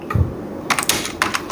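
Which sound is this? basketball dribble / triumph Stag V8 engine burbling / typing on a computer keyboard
typing on a computer keyboard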